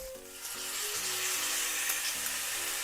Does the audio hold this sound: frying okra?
yes